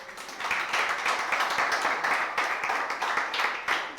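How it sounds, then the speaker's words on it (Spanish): An audience claps for Jorge at a church gathering, dense steady applause lasting several seconds. "denle un aplauso a Jorge"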